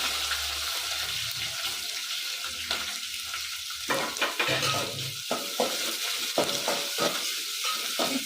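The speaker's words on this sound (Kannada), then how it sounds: "ಚೆನ್ನಾಗಿ ಫ್ರೈ ಆಗಬೇಕು, ಗೋಲ್ಡನ್ ಫ್ರೈ ಈರುಳ್ಳಿ" Sliced onions sizzle steadily in hot oil for sabudana khichdi, a continuous frying hiss with occasional stirring scrapes of a spoon in the pan.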